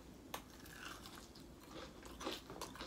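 Spicy KFC fried chicken is bitten into and chewed, giving quiet crunchy bites and soft mastication close to the mic, with no talking.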